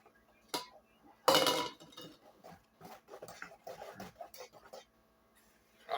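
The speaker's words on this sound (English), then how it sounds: "All right, we're gonna mix this up." Banana nut muffin batter being mixed in a bowl, with a spoon clinking and scraping against the sides in irregular bursts, one louder clatter early on, and no voices.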